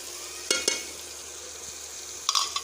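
Onion and garlic browned in a pan, now with tomato and green chili added, give a soft steady sizzle broken by a few sharp stirring scrapes, near and fairly quiet, with no talking.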